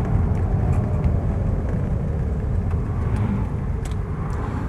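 A 40-year-old Mark II car with an all-synchro gearbox driving along, a steady low engine and road rumble heard from inside the cabin with no break.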